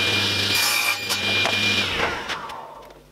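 Bandsaw cutting a short length off a piece of wooden fence board in a workshop: a continuous close, loud rasping whine of the blade through wood, easing off as the cut finishes, with no voices.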